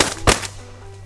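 A single sharp shotgun blast rings out in an open field during a pheasant hunt, loud and close, with a brief tail fading over a low steady background hum.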